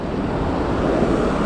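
Wind rushing over the microphone while riding a fixed-gear bike around St Raphaël, a steady, loud, broadband roar with no talking.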